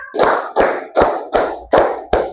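Six loud, evenly spaced hand claps in a clapping game led by a teacher, each a crisp smack with a short decay, recorded close with a steady rhythm and no talking over them.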